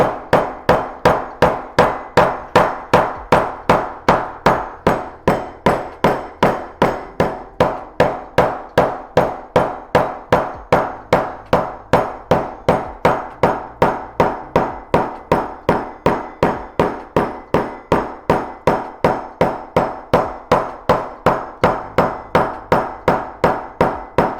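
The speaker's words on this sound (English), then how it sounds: "I'm gonna be hammering this down next, so that's another way to help flatten it." Steady, rapid hammer blows on metal, evenly spaced and ringing, continuing without pause at close range.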